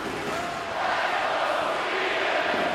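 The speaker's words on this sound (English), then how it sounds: "The crowd urging on the Swedes." Arena crowd at an ice hockey gold medal game between Sweden and Russia, roaring in support of the Swedish team: a dense, steady wall of distant cheering and chanting, loud and sustained throughout.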